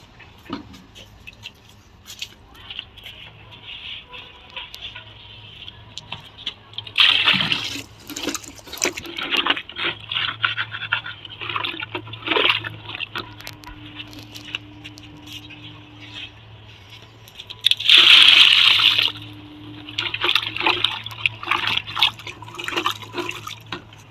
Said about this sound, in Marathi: पाणी टाकत आहे